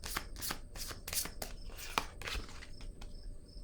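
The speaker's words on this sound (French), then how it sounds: "Je vais déposer une autre carte ici, une rose." Tarot cards handled and laid down one by one in a quiet room, giving soft papery flicks and slaps in an irregular rhythm, close and faint with no talking.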